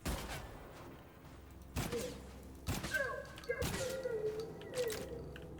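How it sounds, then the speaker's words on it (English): Gunfire aimed at the player in a first-person zone patrol game: several separate loud shots and thumps, spaced about a second apart, close and punchy, with some ringing tones trailing after them. "Somebody is shooting at me."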